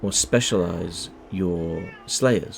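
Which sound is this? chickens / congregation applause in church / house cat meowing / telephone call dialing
house cat meowing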